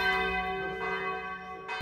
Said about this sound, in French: salué conjointement par les cloches du village